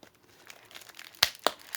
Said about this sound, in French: Ah non, c'est un papier bulle.